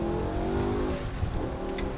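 A BMW M5 V10 engine, a rev-happy unit redlining at 8,200 rpm, holds a loud, steady high-rev howl throughout, with a dense mechanical roar and no voices.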